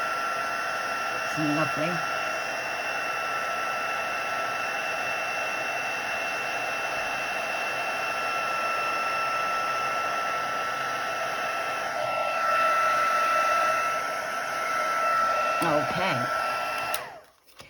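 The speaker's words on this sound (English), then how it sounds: "so that's the heat embossing" Heat embossing tool blowing hot air onto a handmade card, a loud steady fan-like whoosh that runs continuously and then cuts off near the end, with brief speech at the start and later.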